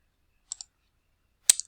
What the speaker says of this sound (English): you can use this keyboard here to write an exponent